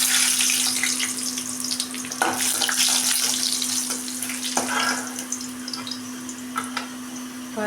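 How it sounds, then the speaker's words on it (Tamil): Dried red chillies fry in hot oil for a village-style curry, a steady crackling sizzle with occasional sharper pops, close and moderately loud, with no talking. "பாருங்கள், வரமிளகாய் வறுத்தாச்சுங்க"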